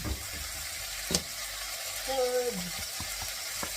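Mushrooms sautéing in a hot pan give a steady close sizzle and fry, with a few stirring scrapes and clinks partway through and a brief voice.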